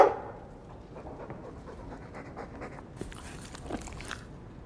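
A Mabari war dog pants steadily in Dragon Age II, a soft rhythmic breathing held close and moderately quiet over a low game ambience, with no talk.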